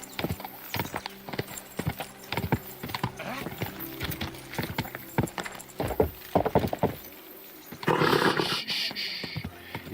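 Horse in the video game Kingdom Come Deliverance II, with rhythmic clip-clopping hooves trotting close by, snorts, and a loud whinny near the end, with brief speech mixed in.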